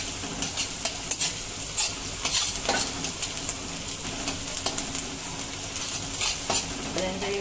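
Spring onion whites fry and sizzle in a hot pan while a spoon stirs them, with steady crackling and repeated scraping strokes, close and fairly loud, and no voices.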